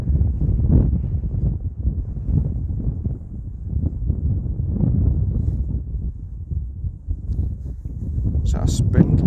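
Gusty wind buffets the microphone outdoors during metal detecting in the UK, a loud, continuous low rumble that swells and dips throughout, with a brief higher rustle near the end.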